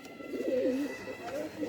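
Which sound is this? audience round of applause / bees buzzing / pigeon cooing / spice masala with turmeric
pigeon cooing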